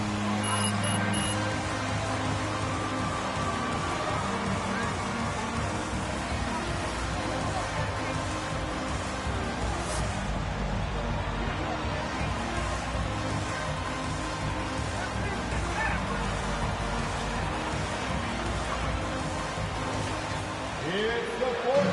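A basketball arena crowd in the fourth quarter of a video game produces a steady, dense murmur that runs unbroken and fairly even in loudness from start to finish.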